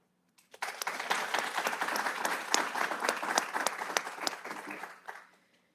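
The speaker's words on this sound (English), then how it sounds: "I want you all to give yourselves a round of applause" Fellowship graduates at a higher education leadership ceremony break into a dense round of applause. It starts abruptly, swells and holds for several seconds, then tapers off near the end.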